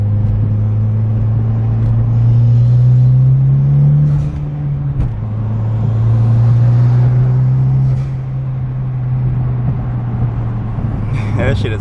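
An EvoX car's engine drones loudly up close, its pitch climbing steadily as it accelerates, dropping briefly around each gear change, then rising again, with road rumble underneath.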